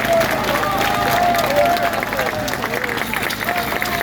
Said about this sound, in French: on peut faire un tonnerre d'applaudissements à Maître Fabrice Division